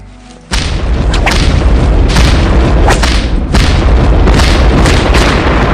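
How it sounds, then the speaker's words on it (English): A simulated Brontosaurus tail whip lets out a thunderous crack, with a sudden loud boom that gives way to a sustained, roaring rumble marked by several sharper cracking bursts, very loud and heard without speech. "Creating thunderous cracks, the tip of the tail exceeding 720 miles an hour"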